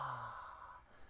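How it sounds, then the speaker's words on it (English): A person demonstrates a breathy yawn during voice-training pitch exercises: a single soft, sighing exhale that starts slightly voiced and fades into airy breath over about a second, close and quiet. "On the yawns we were doing before, we settled into it."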